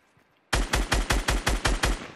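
Rapid automatic gunfire in the Fortnite video game: after a brief quiet lead-in, a loud, evenly spaced burst of about eight close shots rings out.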